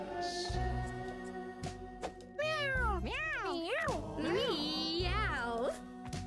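Several drawn-out, warbling cat meows from the Mewgenics video game come one after another, loud and close, layered over steady in-game background music.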